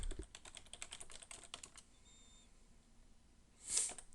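Fast bursts of typing on a computer keyboard in a quiet room, close and crisp keystrokes for about two seconds, then a pause and one louder click.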